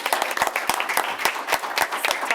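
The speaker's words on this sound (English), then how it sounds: "Let's give Thomas a round of applause." Audience applause at a school board of education meeting, a small group clapping with distinct separate claps in a steady, moderately loud patter.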